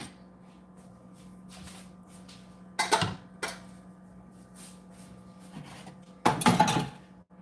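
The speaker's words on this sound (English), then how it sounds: "And they want you to whisk it together." Buffalo wing sauce is whisked together in a bowl, giving a few brisk scraping and clinking bursts separated by quieter pauses, close and fairly loud against a faint background hum.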